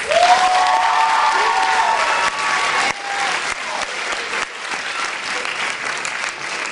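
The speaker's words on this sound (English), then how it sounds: "Please welcome them with a huge round of applause" An audience at a stage show gives sustained, dense applause to welcome the cast, loud and steady at first and then easing slightly. A brief voice sounds near the start.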